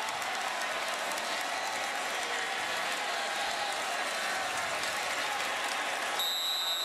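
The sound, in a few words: stadium crowd cheering after Boston College touchdown run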